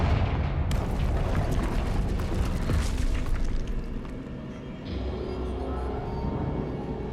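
Confringo spell explosion in the Hogwarts Legacy video game, a heavy rumbling boom that swells and holds, then fades into a low sustained roar.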